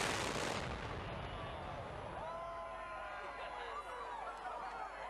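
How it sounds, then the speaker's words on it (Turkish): Explosives bring down a 77-year-old bridge with a loud blast at the start that fades into a long rumbling decay, and a news narrator speaks over the tail. "Bombalar köprüyü yerle bir etti."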